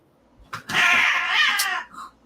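Two cats, one climbing a post while the other sits at the top, let out a single loud, drawn-out yowl lasting about a second, close by with no talking.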